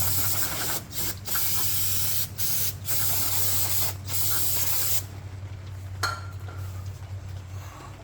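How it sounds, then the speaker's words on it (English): Aerosol brake cleaner sprayed onto Toyota 4Runner rear brakes, loud hissing bursts in several pulses over about five seconds, then quieter clinks and handling noise. "Just getting a little extra brake dust out of there."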